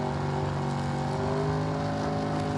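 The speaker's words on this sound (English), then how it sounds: "getting ready here as he brings the RPMs up" A gasser-class drag race car holds its engine at high revs at the starting line before a run, a loud, steady droning roar with a rich harmonic buzz and no voices.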